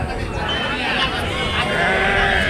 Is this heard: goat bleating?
yes